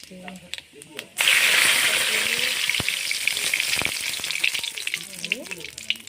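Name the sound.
panch phoron spices sizzling in hot oil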